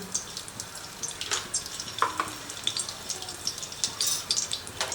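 Butter and plain oil heating in a kadai, giving a soft continuous sizzle with light crackles and bubbling close by, steady and fairly quiet.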